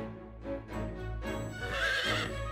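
A horse in the video game Fire Emblem Warriors: Three Hopes whinnies in a long, rising and falling neigh, loud and close, with no talking.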